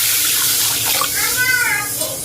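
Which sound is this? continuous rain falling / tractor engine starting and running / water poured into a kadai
water poured into a kadai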